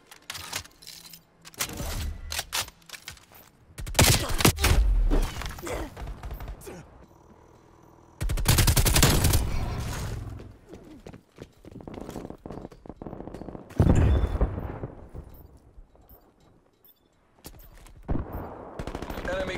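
Automatic sentry turret firing in a multiplayer shooter game, loud rapid bursts of gunfire repeating several times with brief gaps, mixed with other game sounds and occasional voices.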